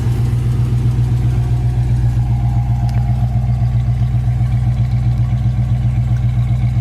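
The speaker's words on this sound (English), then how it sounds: "Got chrome tips, dual exhaust sounds good." A 1967 Ford Mustang with dual exhaust and chrome tips idles steadily, a loud, even low rumble with a regular pulsing beat that holds without change for the whole stretch.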